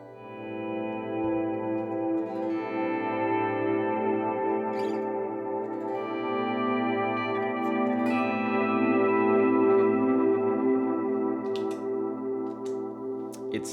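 Ambient electric guitar swelling through a volume pedal with layered delays and tremolo, smooth pulsing chords washing over each other in an even sustained wash, no voices.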